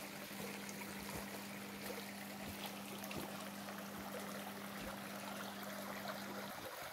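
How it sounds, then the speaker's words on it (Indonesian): Mountain spring stream on the Gunung Salak trail via Cidahu, flowing as a steady, close rushing of water with a constant low hum underneath, no talking. "Di sungai kecil ini atau mata air ini, kalian bisa mempersiapkan logistik air karena air di sini sangat jernih."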